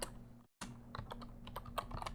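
Fast, uneven keystrokes on a computer keyboard while writing a Unity C# switch statement, crisp clicks close up with a short pause near the start, no voices.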